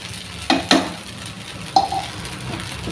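Sabudana khichdi with raw peanuts stirred in a pan, with a few sharp spoon scrapes and clinks against the metal over a low sizzle, close by with no talking.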